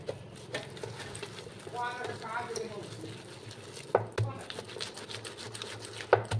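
Palm fruit rubbed by hand against a basket to push out the pulp, a steady soft scraping and squelching that runs throughout, close by, with a few sharper knocks near the end and a voice talking over part of it.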